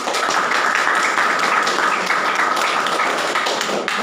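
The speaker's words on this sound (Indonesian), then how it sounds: "Tepuk tangan untuk kita semua." A school class clapping hands together in a classroom, a dense, steady patter of many hands that is close and sustained and continues without a break.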